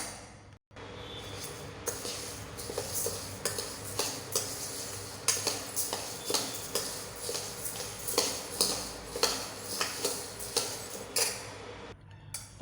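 Chana dal, urad dal and other lentils dry roasted in a pan for homemade chilli powder, a steady rattle of light clinks and scrapes from stirring with a few sharper taps, close and continuous with no talk.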